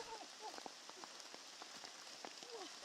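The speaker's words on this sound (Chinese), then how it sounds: "雨越下越大" Heavy rain falls in a bamboo forest in the mountains as a faint, steady patter of drops. Soft scattered chirps and clicks are mixed in with it.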